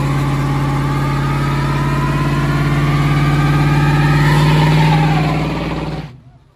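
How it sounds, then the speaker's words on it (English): A boxy Chevy on a wheel alignment visit runs its engine hard during a burnout, a loud, close, sustained roar that climbs gradually in pitch, holds near the top, then drops away abruptly into silence. "Did a two-stage burnout, went to second gear."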